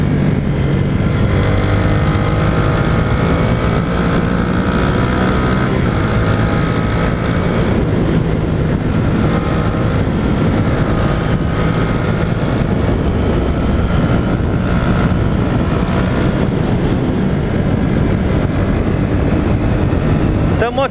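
Constant loud wind-buffeted engine roar of a motorcycle riding along a country road between Nazaré Paulista and Mairiporã, with a voice speaking faintly underneath.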